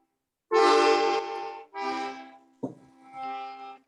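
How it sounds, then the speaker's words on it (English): An accordion sounds three sustained, reedy chords in a row, the first long and loud, then two shorter swells, played alone up close during a guessing game. "It was an accordion."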